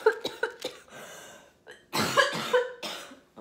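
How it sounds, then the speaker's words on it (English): A person coughs repeatedly up close, a quick burst of short hacking coughs followed by a heavier, rougher fit after a brief pause. "I apologize for all the coughing in the video."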